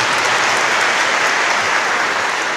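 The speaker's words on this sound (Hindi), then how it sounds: "दोनों टीमों का हम जोरदार तालियों के साथ शुक्रिया अदा करते हैं।" Loud, dense applause from a congregation at a Chrism Mass in the Archdiocese of Lahore fills the space, a steady wash of many hands clapping together with no voices over it.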